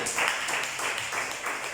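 Steady applause from a church congregation praising God during a service, dense clapping with slight pulsing, moderately loud and heard alone without speech.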